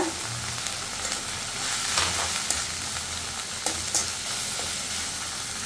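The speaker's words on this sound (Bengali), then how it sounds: "আমি মশলাটা ভালো করে কষিয়ে নেব।" Spice paste with turmeric and chili powder frying in hot oil for a tilapia dish, a steady close sizzle broken by occasional stirring scrapes and clicks, with no one speaking.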